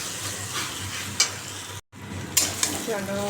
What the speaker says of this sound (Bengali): চিচিঙ্গা ভাজা দারুণ